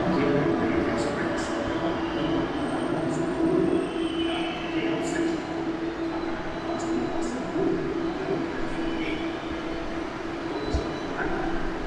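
A Malaysian metro train pulls out of a station with a loud, continuous rumble and intermittent high wheel squeals, while people talk nearby.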